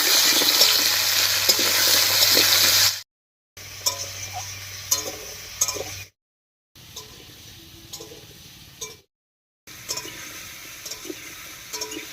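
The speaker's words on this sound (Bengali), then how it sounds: "এবার কড়াইতে সর্ষের তেল দিয়ে মিষ্টি কুমড়োটা হালকা করে ভেজে নেব" Pumpkin pieces fry in hot mustard oil in a wok, a steady close sizzle with stirring, broken into several stretches by brief silent cuts.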